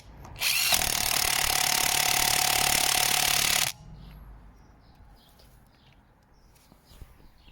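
Parkside 400 Nm cordless impact wrench tightening wheel nuts gives one loud, continuous hammering burst lasting about three seconds, close by, then cuts off to quiet background with faint clinks.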